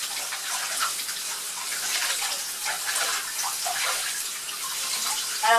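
Lukewarm tap water pours steadily into a bathtub while a hair mask is rinsed out, a close, continuous splashing rush with no speech.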